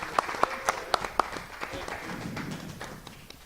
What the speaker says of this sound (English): So round of applause for Matt, everybody.